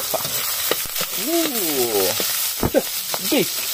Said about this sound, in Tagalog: Gigisa lang muna tayo